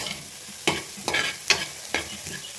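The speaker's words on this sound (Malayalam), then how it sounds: "സോ ഇതിനി നമ്മൾ നന്നായിട്ട് വഴറ്റുക." Semiya upma being sautéed in a pan, a faint background sizzle broken by four crisp scraping strokes of a spatula at close range, no voices.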